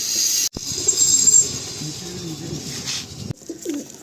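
Kalanka high flying pigeons coo softly and repeatedly at close range, with a sharp click near the start and another knock later amid light background noise.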